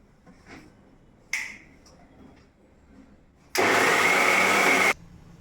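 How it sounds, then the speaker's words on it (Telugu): A kitchen mixer grinder blends boiled tomato, onion and green chilli with salt into a smooth puree, a loud steady whir that runs about a second and a half after a few faint handling clicks. "ఇది కొంచెం మిక్సీ పట్టేద్దాం."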